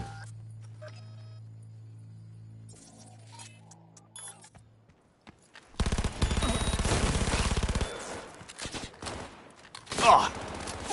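Cyberpunk 2077 shootout gunfire, a dense burst of rapid automatic shots lasting a couple of seconds, followed by one sharp louder report, after a quieter stretch of game tones and clinks.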